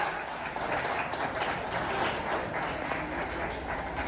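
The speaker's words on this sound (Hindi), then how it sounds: "एक बार तालियों की गड़गड़ाहट के साथ अपने होने का एहसास कराएं" Steady, fairly faint applause from a crowd welcoming guests at a fitness championship event in India, a continuous wash of clapping with no voices on top.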